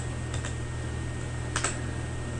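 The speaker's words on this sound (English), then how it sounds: "and then type in the username, Bohan" Keys clatter on a computer keyboard in two short clusters of quick taps over a steady low hum, close and moderately quiet.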